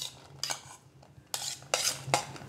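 A spoon stirs food in a pot at home, giving a handful of short metallic scrapes and clinks spaced irregularly and close by, with quiet gaps between them.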